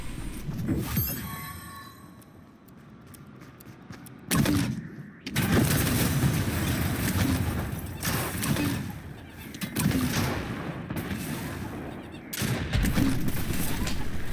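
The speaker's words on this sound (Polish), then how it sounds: "Jest niecelna, to jest taki granatnik, coś w tym rodzaju." Grenade launcher fire in Fortnite, bursts of rapid popping shots and thumps in irregular clusters over game ambience, with faint chirps early on.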